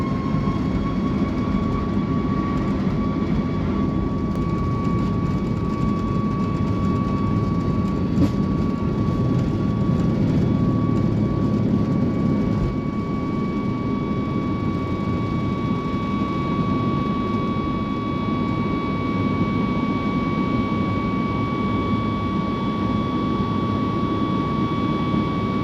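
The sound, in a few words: Singapore Airlines airplane taxiing to the runway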